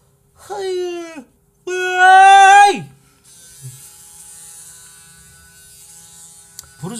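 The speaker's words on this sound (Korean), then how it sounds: "면도 한번 해야겠다." An electric shaver buzzes in two short, loud bursts during a shave, then settles into a softer, steady whir.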